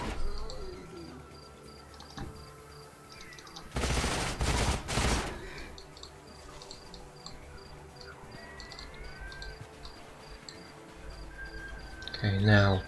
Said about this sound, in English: Let's start shooting it up.